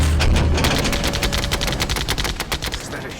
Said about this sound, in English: Weapons, activate phalanx.